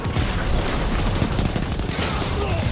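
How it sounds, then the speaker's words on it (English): Rapid sniper rifle fire in the video game Destiny, loud and dense, with repeated sharp reports over continuous game noise and no pauses. "And here comes a sniper rifle."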